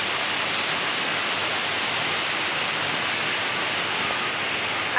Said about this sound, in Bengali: তো আবার বৃষ্টি চলে এলো